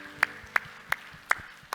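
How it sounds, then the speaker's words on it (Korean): A church congregation claps in unison during worship, five sharp, evenly spaced claps in a steady beat, fairly soft and slightly distant, with no talk. "우리 하나님께 영광의 박수 합시다"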